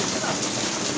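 Heavy rain pouring down in a market area, a dense steady hiss of drops filling a short moment with no break.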